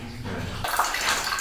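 Stream water trickles steadily in front of a small secluded room, a continuous near wash of flowing water after a brief low hum at the start.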